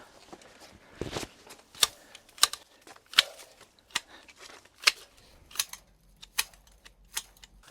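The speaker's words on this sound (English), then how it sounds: "Some of these box hedges could do with a trim" Hand shears snip through box hedges being clipped into loose balls in a garden, a steady run of about a dozen crisp, separate cuts at an even rhythm, fairly close and with no talking.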